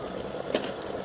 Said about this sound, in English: we're going to stitch the pendant, and it'll stitch just like this one